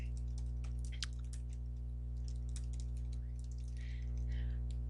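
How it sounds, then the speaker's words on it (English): Someone typing a note on a computer keyboard, a quick run of light, close key clicks over a steady low electrical hum, thinning out toward the end. "can actually just type a note"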